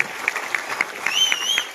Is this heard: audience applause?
yes